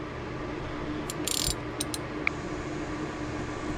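A ratchet tightens a Fumoto oil drain valve on an ND2 Mazda Miata. A short burst of quick, close clicks comes, then a couple of separate clicks and a small knock, before a quiet background hum.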